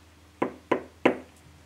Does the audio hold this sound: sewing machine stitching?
no